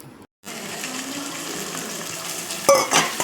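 Green chilies and kudampuli for a tuna coconut-milk fish curry sizzle steadily in hot oil, a close, continuous frying hiss with a brief clink of a utensil near the end.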